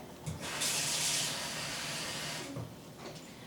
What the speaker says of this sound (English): I'm going to go ahead and put just regular tap water